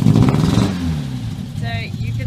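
A Volvo S122 with a newly fitted exhaust pulls away down the road, its engine note fading from a loud near rumble to a fainter tone as it recedes, with a voice speaking at the end.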